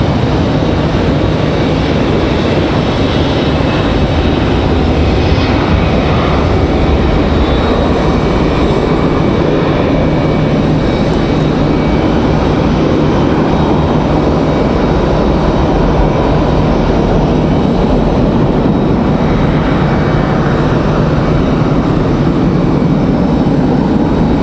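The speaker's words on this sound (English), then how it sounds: "It's Delta, that A321 that we saw going up the hill already getting a move on here." A Delta Airbus A321 takes off from Raleigh-Durham International, its engines building into a loud, sustained roar that holds without letup for the full run.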